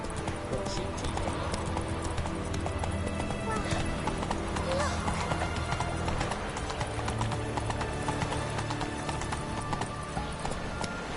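Roach, a horse in The Witcher 3, gallops in a steady rapid clip-clop of hooves, joined by a whinny, under game music and a voice.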